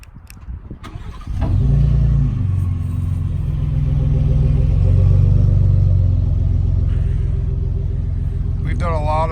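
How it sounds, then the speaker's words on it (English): Ford Raptor truck engine with dual exhaust starts up with a starter whir, then settles into a loud, steady, deep idle rumble close by, with a brief rise near the end. "Let's have a listen at the Raptor with the dual exhaust out the back."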